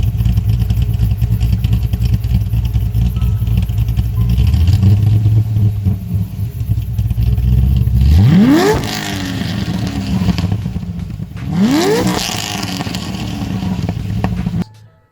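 A Chevrolet Corvette C6 Z06 pushrod V8 with a 7,100 RPM redline revs loudly, holding a rising idle before two sharp climbs through the rev range, then cutting off.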